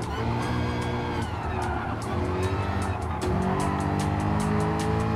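A Screaming Gophers Mustang rally car in Gran Turismo Sport drives hard, its engine whining and shifting pitch with tire squeal and skidding, loud and continuous throughout with no talking.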